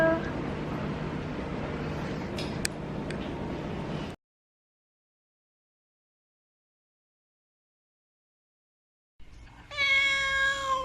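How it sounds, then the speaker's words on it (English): A cat cries out from inside a carrier, first as a drawn-out distressed yowl over background noise, then, after a long silence, as another high wavering meow. "So she's in the carrier and she hates the carrier. Her meow changes and everything."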